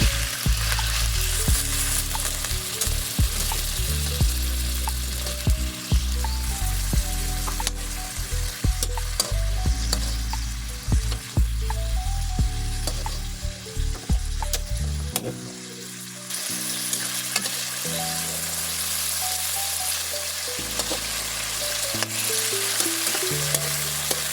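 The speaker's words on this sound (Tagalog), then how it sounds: "Nya kani golden brown naman ni ato nang ilunod ang chicken." Pieces of chicken deep-frying in hot oil until golden brown, a steady close sizzle and bubbling with occasional stirring clatter, no voices.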